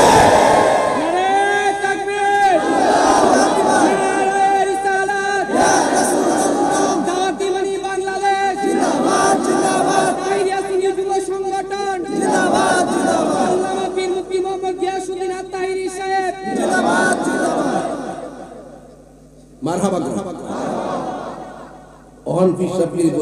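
A sermon congregation repeatedly answering with loud takbir chants during a Bengali waz, bursts of massed shouting alternating with the preacher's amplified voice in a regular call-and-response rhythm.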